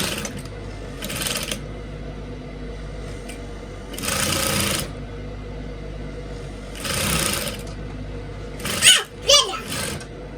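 Sewing machine running a straight stitch, with short bursts of rapid mechanical whirring and needle chatter in three main runs, separated by pauses and a quiet background hum, with a person speaking in between.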